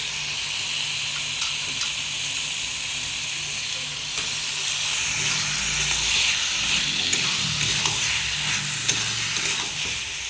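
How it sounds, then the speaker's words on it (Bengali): Chicken sautéing in a pan for a block chicken dish, a steady broadband sizzle and hiss with occasional stirring scrapes, close and continuous with no talk. "চিকেনটা দিয়ে ভালো করে এবার কষে নেব, মিনিমাম 15-20 মিনিট তো কষে।"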